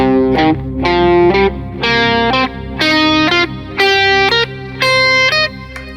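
Distorted electric guitar plays a run of pentatonic notes, every second note clipped and the others sustained, loud and close with effects-laden tone.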